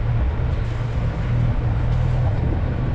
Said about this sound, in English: I'm gonna give it some revs slowly and take a transit off the land.